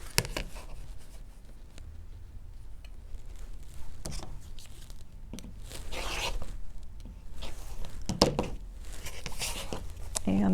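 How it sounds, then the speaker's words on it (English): Scissors trim extra fabric from a sewn quilt sampler piece, giving irregular snipping and rustling bursts at close range with quiet pauses between cuts. "now I need to trim away all that extra fabric"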